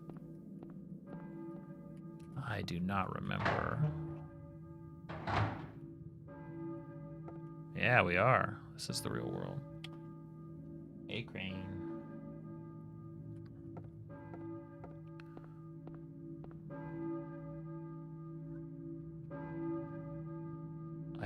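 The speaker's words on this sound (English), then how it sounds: "A church bell? Who's ringing the bell?" A church bell rings from the clock tower in Silent Hill 1, its steady sustained tones sounding throughout while people talk over it in bursts.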